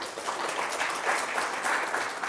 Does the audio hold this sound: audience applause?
yes